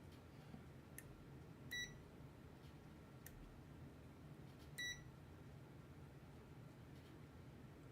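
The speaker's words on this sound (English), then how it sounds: "I get a very short beep." A multimeter on a continuity test gives two brief, faint electronic beeps a few seconds apart, set against a quiet, steady background hum with no talking.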